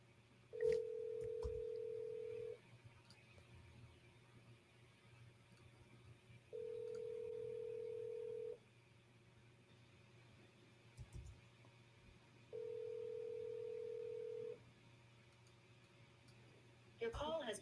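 An outgoing phone call rings back three times, each a steady two-second tone separated by long pauses, over a faint background hum and a few soft clicks.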